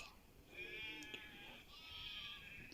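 A video game sheep bleats in a long, wavering call, then a second bleat follows, quiet and close over faint game ambience.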